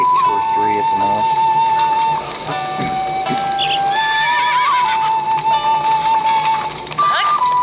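A horse neighs in The Legend of Zelda: Breath of the Wild, with a brief whinny early on and soft clip-clop under a constant electronic game tone and steady background hum.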